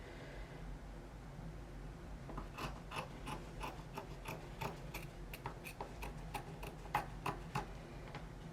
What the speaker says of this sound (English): So we're just gonna cut a little extra off.